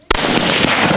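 A 6.5 rifle fires one loud, sharp gunshot close by at shooting practice, its report ringing out and decaying over the following moment.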